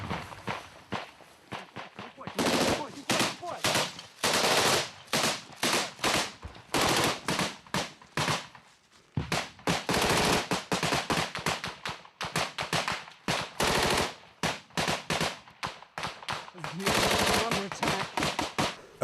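Close machine gun fire in a village during the Ukraine war, rapid loud bursts and single cracks repeating throughout with brief pauses, at close range.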